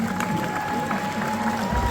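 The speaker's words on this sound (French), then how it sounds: "on peut avoir un tonnerre d'applaudissements pour l'ensemble des personnes qui ont" Crowd applause and cheering for cosplay contest participants at a Japan-themed convention in Tours, a steady dense wash of clapping held for two seconds.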